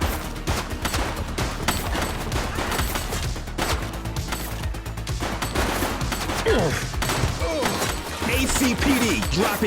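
Gunfire in The Precinct police video game on PlayStation 5: dense bursts of shots and impacts layered with game noise, loud and continuous throughout.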